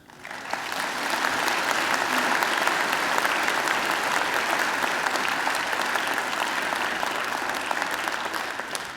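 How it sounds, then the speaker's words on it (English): Steady, full audience applause at a university graduation ceremony, loud and continuous for several seconds after a soft onset. "She deserves a great round of applause."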